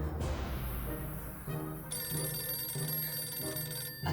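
A telephone rings in the video game 60 Seconds, a steady electronic ringing tone with sustained high pitches that carries through the clip over a low background hum, with no voices.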